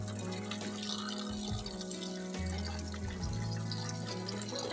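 Cut potato pieces for french fries are swished and rinsed in a bowl of water in a kitchen, making faint, soft sloshing and trickling sounds over a low background hum, with no talking.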